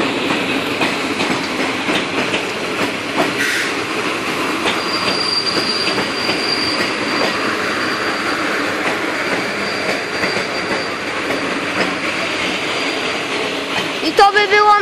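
A retro steam train hauled by locomotive ET-47 pulls into the station in Elbląg with continuous rumble and rattling wagons, a high wheel squeal running over it, sharper screeching near the end.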